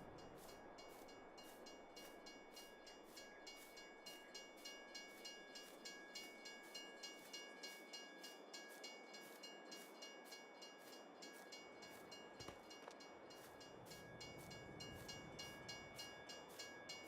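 A train in a farming video game rolls along with a rhythmic clickety-clack of wheels over rail joints and a faint steady hum, quiet and continuous with no talking.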